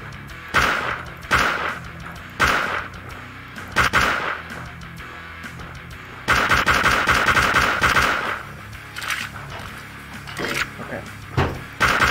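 Rapid bursts of gunfire from a newly picked-up weapon in the horror video game SlendyTubbies 3, loud and repeated in several volleys with short gaps, with a player's voice talking over parts of the shooting.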